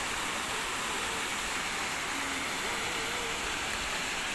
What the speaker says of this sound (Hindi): काफ़ी बड़ा झरना है ये।